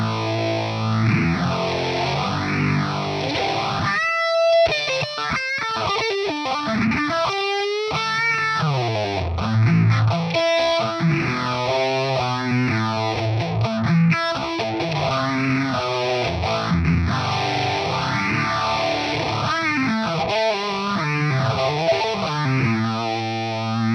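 Heavily distorted electric guitar through a multi-effects preset modelled on a classic rock guitar tone with room reverb, playing chords and riffs with a swirling, modulated effect throughout, loud and continuous with brief stops.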